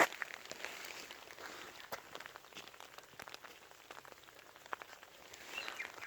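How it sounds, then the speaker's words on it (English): Intense rain falling during a wilderness hike in Abel Tasman, New Zealand, a soft continuous patter with scattered sharper drops close by, fairly quiet and alone with no talk. "The rain is intense enough for us to have to take out the ponchos."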